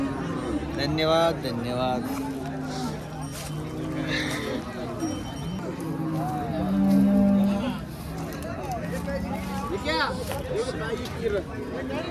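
Cows moo at a cattle market in Kopargaon, one long close low moo rising over steady chatter from people talking nearby.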